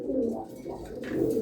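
Domestic pigeons in a loft giving a brief, soft, low cooing, close by and alone, lasting just over a second.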